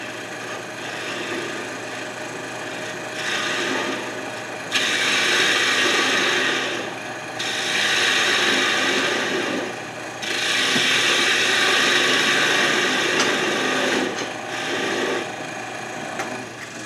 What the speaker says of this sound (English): Maybe I switch to my little 1/4-inch bolt gouge and be a little bit more gentle